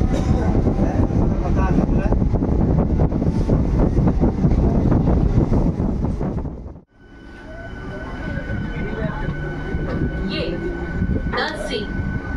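Local train bound for Amta in rural South Bengal, its loud rumbling roar filling the first half, then dropping sharply and continuing as a quieter rattle with faint squeals and a hum.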